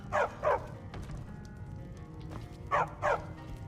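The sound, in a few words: dog barking in the video game Skyrim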